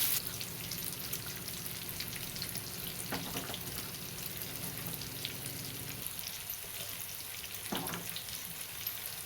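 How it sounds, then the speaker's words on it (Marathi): Fish pieces coated in rice flour fry in oil over a medium gas flame, giving a soft, continuous crackling sizzle with a few brief louder pops, fairly quiet and without voices. "मिडियम गॅसवर तळून घ्यायचं आहे पाच मिनटं"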